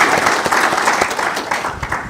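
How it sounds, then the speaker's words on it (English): A conference audience at a business panel session on investment opportunities applauds the panelists with brief, thick, steady clapping. "So we can clap for them as we start the session."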